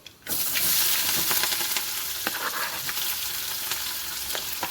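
Dried red chillies, onions and green chillies sizzling loudly in hot oil for a potato fry, a steady dense crackle with occasional sharper pops and stirring scrapes, close and continuous with no talking.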